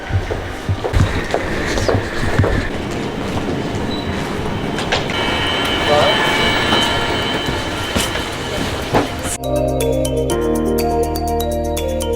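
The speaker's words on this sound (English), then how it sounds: "the train is coming" A train rumbles past close by, wheels clacking and squealing over the rails, then a steady mechanical hum with tonal whine takes over near the end.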